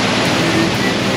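Ocean wave washing over a sailboat at sea in French Polynesia, a brief loud broadband rush of water close by.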